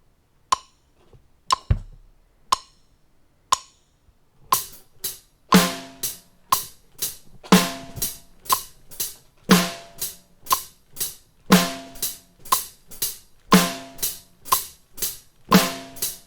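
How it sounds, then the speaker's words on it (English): Snare drum and hi-hat hits played with homemade foot pedals in the VR drumming game Paradiddle, starting as a few sparse taps and building into a steady, evenly spaced beat of crisp, close strikes. "we're going to add the snare drum on the 2 and the 4."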